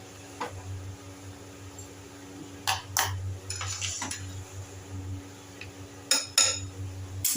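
Cumin seeds and asafoetida tempered in a little hot ghee for buttermilk, heard as soft sizzling under scattered metal spoon clinks and scrapes against a pan in a home kitchen, with a few brighter clattering bursts.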